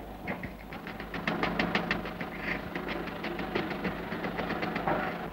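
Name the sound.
child imitating a train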